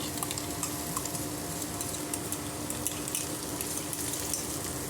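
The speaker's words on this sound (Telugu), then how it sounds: "పచ్చి వాసన పోయే వరకు ఫ్రై చేసుకుందాము" Onion, green chili and tomato paste frying in oil in a pan, a steady close sizzle with soft stirring scrapes running throughout, no talking.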